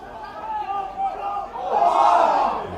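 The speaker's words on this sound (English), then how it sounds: "Hear the reaction of the crowd." Rugby crowd at a Boroughmuir Bears versus Watsonians match roars in response to a high tackle, a broad wash of voices that swells louder toward the end.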